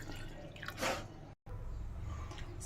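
Water is poured from a cup into a pot holding cinnamon, ajwain, rock salt, a garlic clove and turmeric for a home cold-and-cough remedy: a close, steady splashing trickle with a brief gap partway through.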